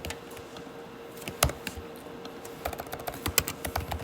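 A computer keyboard clatters close by in scattered clicks, with a sharper key press standing out and a faster run of taps toward the end over a faint steady hum.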